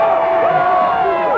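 A dense, loud crowd roars and whoops continuously at a 2000 ACW wrestling show for a hometown wrestler's debut, and a voice may be talking underneath.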